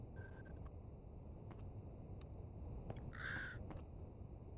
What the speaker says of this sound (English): I can hear a crow